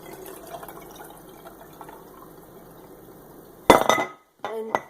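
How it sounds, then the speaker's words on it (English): Water and kefir grains stirred in a glass jar; a quiet stretch of low rumble gives way to sharp clinks and sloshing of liquid against glass, close and bright, in two short bursts near the end. "so stir it around and let it settle for a little while"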